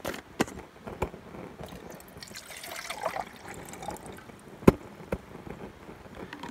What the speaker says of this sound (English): Put 8 ounces of water in the pot.